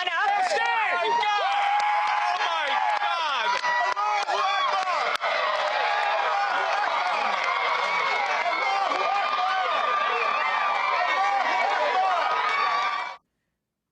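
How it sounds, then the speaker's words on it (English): Supporters gathered outside Troy Davis's execution in Georgia raise a loud, sustained cheer. Many voices shout and call together in a dense, continuous roar that cuts off abruptly. "We're hearing some kind of cheer that has gone up."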